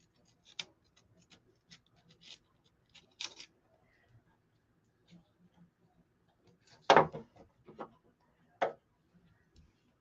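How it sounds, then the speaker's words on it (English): A sharp X-Acto knife trims paper edges in a quiet craft setting, giving scattered faint ticks and light scratchy cuts with a louder cluster of slicing strokes near the end. "I just have an X-Acto knife, and you want the blade sharp, and I just like to lay it at an angle like this and trim"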